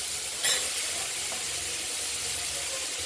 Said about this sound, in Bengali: তেলে দিলাম, এবারে এগুলো ভেজে নেব